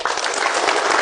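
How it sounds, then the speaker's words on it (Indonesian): Soldiers of a cavalry battalion applauding together, a dense, steady burst of many hands clapping at once that fills the whole moment without letting up. "ya tepuk tangan sekali lagi"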